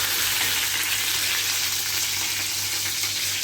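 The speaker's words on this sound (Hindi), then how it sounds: "इनको मैं हल्का सा भून रही हूँ।" Onions and capsicum frying in a kadai for kadai paneer, a steady close broadband sizzle with a low hum underneath and no talking.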